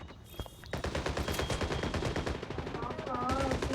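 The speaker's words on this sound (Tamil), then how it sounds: "யாரோ ஃபயர்." Rapid automatic gunfire in Call of Duty Mobile, dense bursts of shots rattling continuously across the battle with game effects layered over them.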